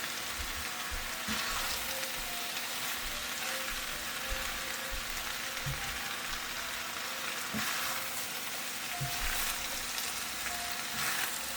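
Squash is stirred in a hot pot of Caribbean chicken stew sauce, a steady loud sizzle running throughout with occasional soft scraping strokes of the spoon, no voices.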